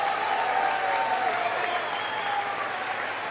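Sustained applause from a large audience in a chamber at the State of the Union address, a steady wash of clapping that continues evenly for several seconds, with no voices above it.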